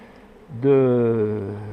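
A honeybee swarm confined in part of a hive, a single loud buzzing drone rising suddenly and holding steady close by, with a voice talking.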